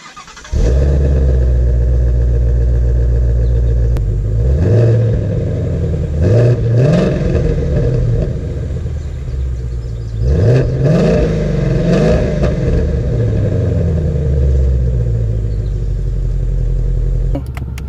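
A 2018 Shelby GT350 engine cranks and catches, then settles into a loud, rumbling idle close by, broken by several sharp throttle blips that rise and fall around the middle and again later.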